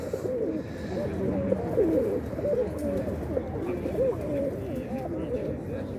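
Stavropol pigeons of the ordes type cooing at a bird market, several overlapping rolling coos in a dense steady chorus, fairly loud and close.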